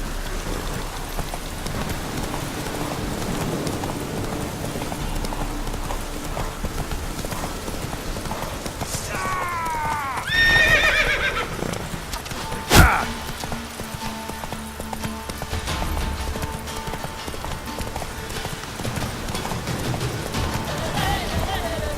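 Roach, a horse in The Witcher 3, clops along steadily through falling rain, neighing once midway, with a sharp knock soon after and a voice talking faintly at times.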